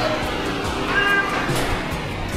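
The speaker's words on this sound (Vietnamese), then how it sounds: "Đây nhiều rất là nhiều loại mèo các bạn tham quan luôn nha." Cats meowing at a pet café garden in Saigon, a few short mews rising over a low room background.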